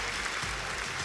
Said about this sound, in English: acknowledging the applause of the crowd